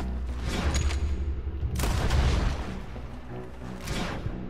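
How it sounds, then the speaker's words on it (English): Dynamite goes off in Red Dead Redemption 2 with a heavy, rumbling blast near the middle, set among a running clatter of distant gunfire and booming shots. "That's dynamite."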